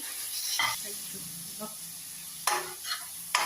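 Onion with ginger garlic paste fries in a pan for mutton curry, a soft steady sizzle broken by several sharp spatula scrapes and stirs, close by.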